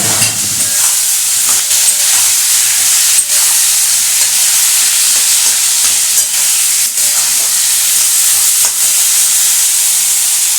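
Tomatoes are tossed into onions frying in oil and stirred, producing a loud, constant sizzle and hiss with periodic scraping strokes of a spatula against the pan.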